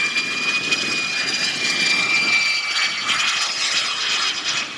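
A radio-controlled model aircraft's turbine jet engine roars with a loud, sustained high-pitched whine over rushing air noise, holding steady through the whole stretch at an outdoor demo show.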